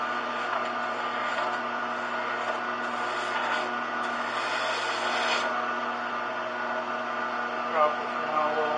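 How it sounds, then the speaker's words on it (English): A hole gouge rasps and scrapes across the inside of a carved wooden floating vessel in a continuous, fairly quiet rubbing sound with a few stronger passes. "Again, I'm going to use the hole gouge, and I can see the line where my hole is."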